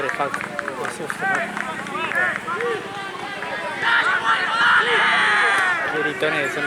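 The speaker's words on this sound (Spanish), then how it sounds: "Qué gritones son los de Guayo" Supporters of Guayo at a first-division sports match shout and yell loudly amid crowd babble, with overlapping voices that rise toward a louder burst near the end.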